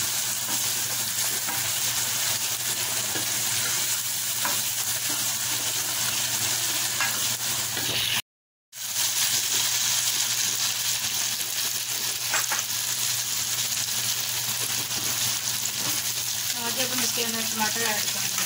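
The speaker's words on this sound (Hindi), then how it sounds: "आप साथ इसके अंदर डाल के अच्छे तरीके से इसको भूनें" Onions frying in a pan as the base for a mutton heart and kidney gravy, a constant close hiss and sizzle with stirring scrapes, broken by a brief gap of silence partway through.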